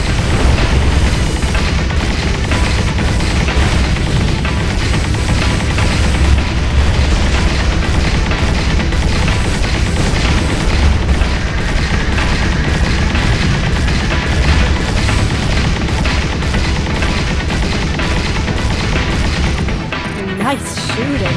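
Space combat in the video game Freespace 2, dense rapid weapons fire mixed with booming explosions, loud and continuous with a rhythmic pulsing, voices faintly under the barrage near the end.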